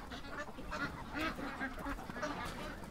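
Geese honking in a pen, a busy flock giving repeated overlapping honks and squawks at close range, with no talk over them.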